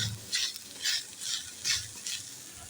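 Wheat flour filling for modak being sautéed in a pan over medium heat, five rhythmic scraping strokes at a steady pace over a faint sizzle.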